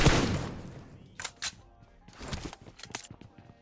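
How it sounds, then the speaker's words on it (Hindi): A few sharp gunshot cracks in PUBG Mobile, spaced irregularly after an initial loud burst, with faint clattering in between. "मैं गोली क्यों चला रहा हूँ"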